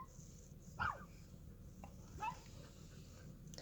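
A small dog gives a couple of brief, high whimpers, one near the start and another a little later, faint and close over quiet outdoor background hiss in a desert camp.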